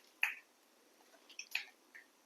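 Mustard seeds popping in hot oil while tempering for a sevai dish: a few sharp, sparse crackles and pops spaced irregularly, close and fairly quiet, with no talk.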